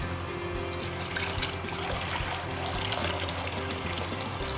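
Water trickles and splashes steadily into a cooking pot for Nigerian beef pepper soup, a continuous pouring sound with a bright, hissy texture.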